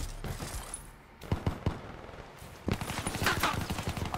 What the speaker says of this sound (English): I thought there was two people shooting at me, but I guess there's only one